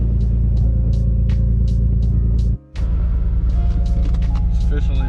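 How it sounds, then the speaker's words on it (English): A Nissan 300ZX drift car idles loudly and close, a deep steady rumble with a brief dip partway through before it settles back into a rough, continuous running note. "Now we just fired up the drift car"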